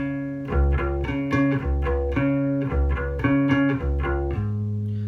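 A bass guitar plays a repeating two-bar figure from a song, low held notes alternating with quicker higher plucks, clear and close with no talking.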